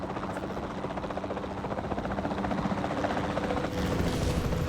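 A helicopter in the video game Jurassic World Evolution 2 thrums steadily with rapid rotor chopping, loud and close, rising slightly in intensity toward the end with no talking.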